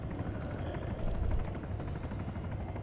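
Helicopter in the video game Arma 3, a steady loud rotor drone with rhythmic thudding blade chop and engine rumble, continuous throughout with no talk.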